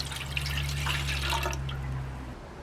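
Water pours from a container into the baking pan of a SilverCrest SBB 850 E1 bread maker, a close, bubbling, trickling stream with a low steady hum underneath that cuts off near the end.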